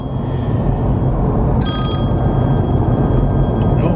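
Mobile phone ringing inside a Mini E car, a bright electronic ringtone starting suddenly partway through and repeating steadily over a loud low cabin rumble.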